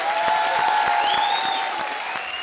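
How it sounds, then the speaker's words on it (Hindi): Studio audience applause on a comedy television show, a loud, steady wall of clapping with a held musical tone underneath, fading slightly toward the end. "सबसे जोरदार तालियां।"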